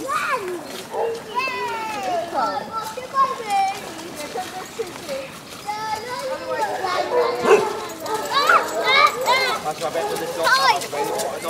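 Basset hounds bark in bursts during a walk at Otterton in South Devon, mixed with children's and adults' voices chatting nearby.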